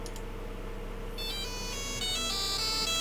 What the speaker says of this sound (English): The phone signaled softly, a message arrived softly, very quietly.